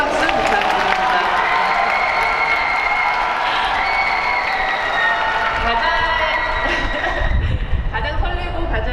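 An audience applauds at an open talk for the film Broker at the Busan International Film Festival. Steady, dense clapping and crowd noise fill the whole stretch at an even level, with tonal sounds mixed in.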